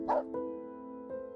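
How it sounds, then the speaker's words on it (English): A startled dog lets out one loud, sharp bark, followed by a couple of fainter, drawn-out yelping tones that fade away. "Startled, Rover let out a loud bark"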